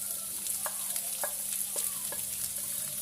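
Ginger and garlic sauté in coconut oil in a pan for a Kerala chicken curry, a soft steady sizzle with a few light utensil taps and stirs, fairly quiet and without talk.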